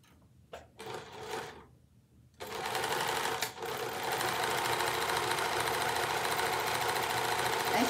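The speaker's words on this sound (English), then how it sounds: "As you can hear, this machine is very clattery." A sewing machine starts with a few short bursts, then runs steadily, rattling and clattering at close range, loud and busy with no voices.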